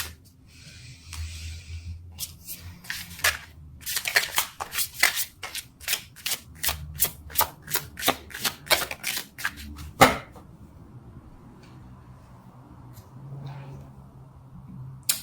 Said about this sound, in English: Let's pull a card for your physical space.